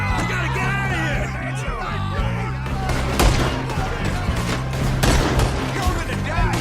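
A Red Dead Redemption 2 shootout crackles with repeated gunshots and louder sharp cracks, while voices shout and yell over the firing throughout.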